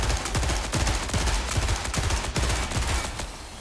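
Rapid sniper rifle and other gunfire in the shooter video game Marathon, loud and dense, with repeated sharp cracks and booming reports filling the whole stretch without letup.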